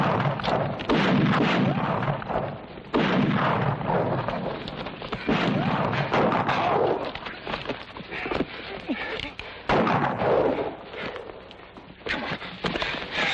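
A western film shootout: repeated gunshots and bangs crack through a chaotic, continuous mix of shouting voices and commotion, loud and close, with bursts spread across the whole stretch.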